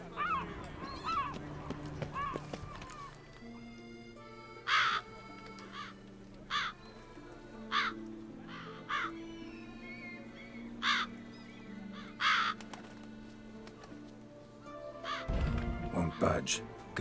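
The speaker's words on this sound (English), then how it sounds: "That's a lot of crows." Crows in The Witcher 3 caw in repeated harsh bursts across the middle of the scene. Game ambience plays beneath, and a voice talks at the start and end.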